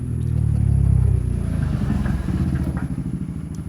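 Sewing machine stitching along the edges of padded blouse fabric, a steady rapid mechanical whirr with a dense motor hum that runs continuously and close, slightly changing pace partway through, with no talking.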